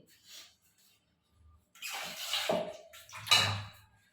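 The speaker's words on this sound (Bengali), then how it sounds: "একটু এবার এতে জল দিয়ে দেবো" Water poured into a cooking pan of potatoes in a home kitchen, a short splashing rush that swells and fades, fairly quiet, with faint handling sounds before it.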